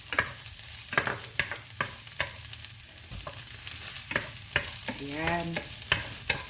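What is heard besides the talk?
garlic frying in a hot pan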